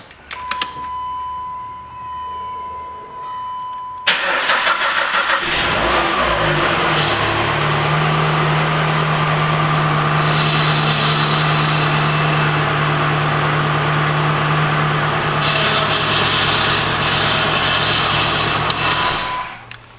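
A rebuilt Chrysler PT Cruiser engine cranks and fires up, then settles into a loud, steady idle close by with a faint whine, with occasional rises in revs and no talking.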